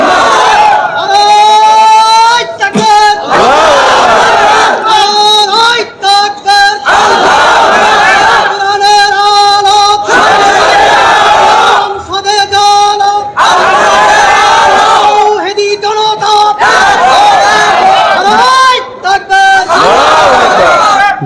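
A large crowd at a religious gathering in Bangladesh roars takbir back in unison. The loud, full-throated shouts come in repeated surges with brief gaps between them.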